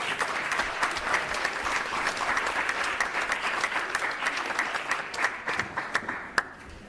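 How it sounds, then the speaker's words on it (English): Steady applause from a crowd at a city school board meeting, dense and sustained, thinning slightly toward the end with a few isolated claps. "we have a big round of applause again for our recyclers"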